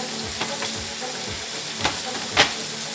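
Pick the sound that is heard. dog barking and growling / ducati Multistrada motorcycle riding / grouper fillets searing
grouper fillets searing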